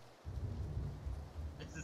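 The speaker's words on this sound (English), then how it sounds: "Thunder." Thunder rumbles low and steadily in PlayerUnknown's Battlegrounds, a soft, distant roll mixed with rain-like hiss that lasts throughout, with a few faint higher blips near the end.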